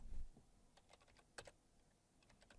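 Typing on a computer keyboard: a quiet, close run of irregular key clicks with one sharper keystroke in the middle, no talking over it.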